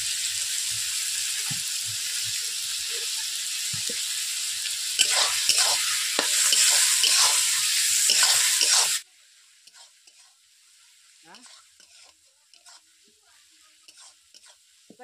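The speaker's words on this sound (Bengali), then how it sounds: "এইভাবে প্রত্যেকটা মশলা ভেজে ভেজে নিচ্ছি" Onions and spices for a Bengali chicken korma fry and are stirred in a pan, with a loud steady sizzle and spatula scrapes that drop off abruptly to quiet, sparse stirring taps and faint crackle.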